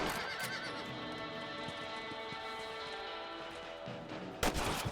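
Gunshots from a video game rabbit hunt ring out over a horse's whinny and clip-clopping hooves, with a sharp loud report near the end.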